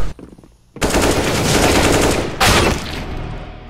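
Dense bursts of rapid gunfire in a shooter video game, loud and close, a short pause, then a long continuous rattling barrage with a second surge partway through.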